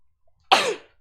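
A single loud, close sneeze bursts out after near silence, sharp at onset and fading over about half a second.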